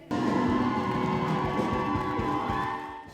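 A crowd cheers inside the CMU ballroom at MSUM's annual Battle of the Bands, a dense, steady roar mixed with loud band music for about three seconds before easing slightly at the end.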